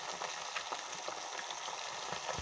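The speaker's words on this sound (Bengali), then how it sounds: "একদম হালকা করে ভাজবো মাছটাকে" Fish frying gently in a pan, a light, steady sizzle and crackle with a few soft pops, close and even throughout with no talking.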